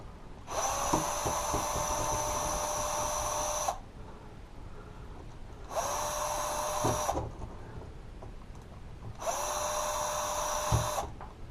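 A power driver whirs in three separate bursts of a few seconds each, backing worn screws out of a Traxxas T-Maxx RC truck, with short pauses and small clicks between, no talk.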